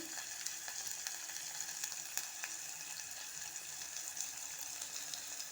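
Potato and tomato curry with onion pieces sits in a frying pan, giving a quiet, steady sizzle with scattered faint scrapes and clicks of stirring. It stays low and even, with no talking.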